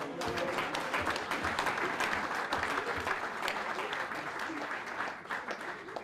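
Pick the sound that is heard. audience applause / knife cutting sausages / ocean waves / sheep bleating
audience applause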